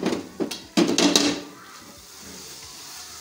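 A lid is lifted off a pot of sweet syrup mixture while making moti choor ladoo, giving a few sharp metallic clanks and clatters close by, followed by a soft hiss of low background noise.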